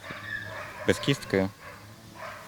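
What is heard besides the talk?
giant schnauzer dog barking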